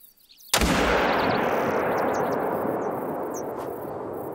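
Single loud rifle shot fired at a black-tailed buck in a mountain hunting video game, a sharp crack followed by a long rolling echo that slowly fades.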